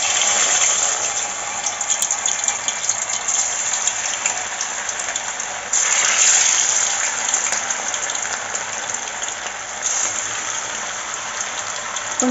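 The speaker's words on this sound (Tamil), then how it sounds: "நம்ம இப்போ ஒவ்வொரு சிக்கன் பீஸாக போட ஆரம்பிப்போம்." Chicken pakoda pieces fry in hot oil for a roadside-style snack, a loud, continuous bubbling hiss with slight surges as more pieces drop in; no voices.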